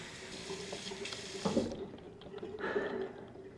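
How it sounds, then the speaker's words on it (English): Tap water runs steadily into a bathroom sink during a nighttime skincare routine, a moderate close hiss with a brief louder splash midway. "add a little bit more water."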